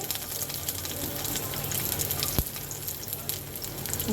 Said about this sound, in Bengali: তো চুলার তেল গরম হয়ে গেছে এখন আমি এর মধ্যে দিয়ে দেবো রসুন কুচি